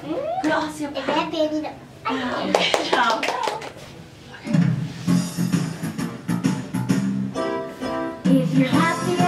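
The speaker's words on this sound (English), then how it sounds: "We'll clap our hands, stamp our feet, turn around" Children sing a song with hand claps mixed under their voices, a bright group tune with rhythmic clapping and other actions, recorded at a December 2017 mini piano concert.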